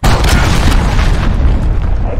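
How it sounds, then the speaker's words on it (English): An enemy cruise missile in Call of Duty: Modern Warfare detonates with a loud, heavy boom that rumbles on continuously for a couple of seconds. "Enemy cruise missile, take cover."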